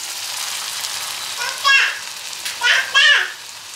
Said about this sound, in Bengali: এবার আমার আর সৌরভের জন্য ভাজছি।